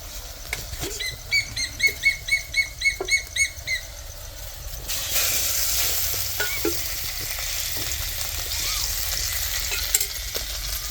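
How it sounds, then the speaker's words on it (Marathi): Hot oil crackles and sizzles steadily in a wok over a wood-fired stove, ready for garlic and cumin, following a brief run of rhythmic chirping or clicking; the frying noise is close and continuous with no talking. "तेल तडतड वाजत आहे."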